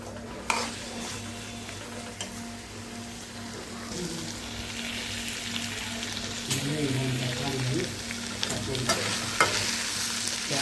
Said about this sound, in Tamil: எண்ணெயிலே வதங்கி.